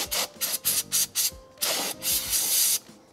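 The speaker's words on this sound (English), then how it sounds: "Give them a little brake parts cleaner." Brake parts cleaner hisses in sharp bursts onto the painted-hat factory rear rotors of a 2018 Subaru Crosstrek: about six short sprays in quick rhythm, then two longer blasts, close and clear.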